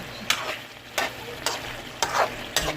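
Seasoned plantain slices fry in a pan under a soft bubbling hiss, punctuated by five evenly spaced scraping strokes about half a second apart, close and fairly quiet.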